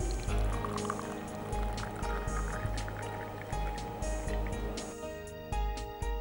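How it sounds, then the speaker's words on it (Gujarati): Hot water is poured over a Wagh Bakri green tea bag, making a faint, close trickling and splashing sound. The pour runs in uneven spurts and thins out toward the end. "હવે એની અંદર ગરમ પાણી એડ કરવાનું છે"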